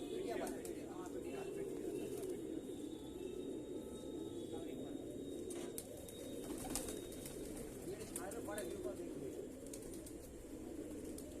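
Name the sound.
pigeons cooing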